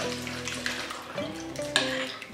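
Watery liquid left from curdled milk drains through a strainer, a continuous trickling and splashing with a few brighter drips and clinks, close up and with no talking.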